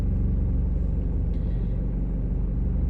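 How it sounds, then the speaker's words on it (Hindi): Road traffic in Dubai carries on as a steady low rumble of passing cars, continuous and fairly close, with no talk over it. "रोड पे ट्रैफिक थोड़ी सी ज़्यादा है।"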